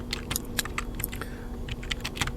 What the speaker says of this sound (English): start typing exactly what I'm typing over here on these two columns